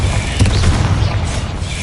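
A Confringo blast spell bursts in Hogwarts Legacy, a loud booming explosion with a deep rumbling body and a brief crackling flare, sustained across the whole moment.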